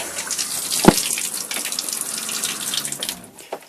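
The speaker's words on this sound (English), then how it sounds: "Oh, water's already running." Water runs steadily from a bathtub faucet in an RV, a continuous hiss and splash with a brief knock near the start, close by and fairly loud.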